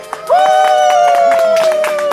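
An audience claps steadily at an outdoor theatre show in Vecpauce, under a man's long drawn-out shouted call that rides over the crowd for most of the clip.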